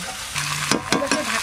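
Beans hitting hot oil in a pan while cooking a winter breakfast, giving a steady close sizzle that flares in several sharp bursts as they are stirred.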